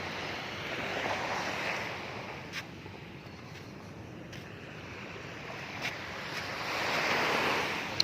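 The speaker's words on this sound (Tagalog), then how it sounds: "Yung hampas ng alo na yan" Ocean waves wash and crash steadily against the shore at Masinloc, Zambales, with a constant roar of surf and some wind buffeting the microphone.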